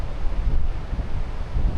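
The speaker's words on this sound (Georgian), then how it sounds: "არ ცხნარდება ქარი." Strong wind from a sea storm during a daytime duck hunt buffets the microphone with a heavy, gusting low roar, with surf-like rushing mixed in throughout.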